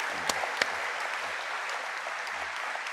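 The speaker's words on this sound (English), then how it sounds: "That deserves a round of applause." Audience at a live debate breaking into steady applause, dense clapping with a few sharp individual claps standing out near the start, continuing evenly throughout.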